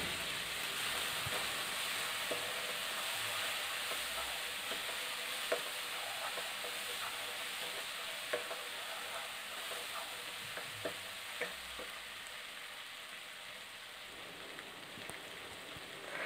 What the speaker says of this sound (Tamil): கட் பண்ணி வச்சுருக்க தக்காளி வந்து ஆட் பண்ணிக்கங்க. ஸோ ஆட் பண்ணிவிட்டு நல்லா மிக்ஸ் பண்ணி விட்டுக்கலாம்.